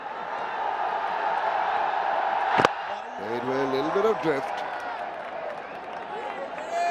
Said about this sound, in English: I don't know if our viewers could hear the roar of the crowd. It's building up nicely